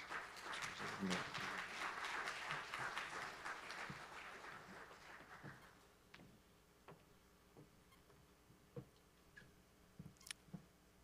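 An audience applauds to welcome a presenter at a day-two session on characterizing the atmosphere over the city of Port-au-Prince; a fairly faint burst of clapping fills the first few seconds, then thins out into scattered claps and quiet room noise.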